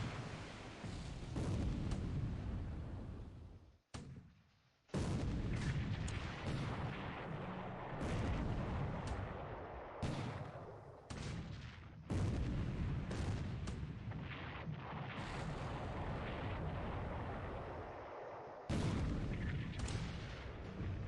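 Naval gunfire in the War in the Pacific strategy game as ships bombard enemy vessels, with dense continuous booming and rumbling blasts, loud and sustained, broken by a few brief pauses.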